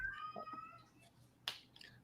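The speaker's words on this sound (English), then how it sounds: "Cat's complaining that I'm not sitting on the sofa right now." A house cat meows in faint, complaining calls indoors near a sofa, a few drawn-out cries early on, then quiet with a brief sharp sound near the end.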